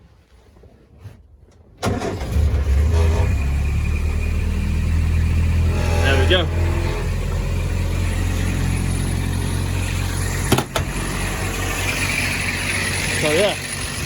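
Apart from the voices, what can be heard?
car engine starting, then fast idle with choke out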